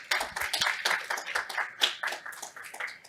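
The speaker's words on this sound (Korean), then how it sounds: "다시 한번 무대 위 좌장, 발표자, 토론자께 큰 박수 부탁드립니다" Audience clapping for the chair, presenters and discussants on stage at the close of a 2021 Jeju Forum panel session; dense, steady applause from a nearby crowd lasting about three seconds, with no talk over it.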